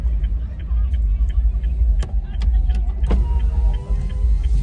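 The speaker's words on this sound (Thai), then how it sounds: "เดี๋ยวนี้กำลังถอยรถนะครับพี่น้องถอยรถเพื่อน ถอยรถเพื่อน" Car reversing slowly, a steady low engine rumble with a few faint clicks and knocks over the top, close by and continuous throughout.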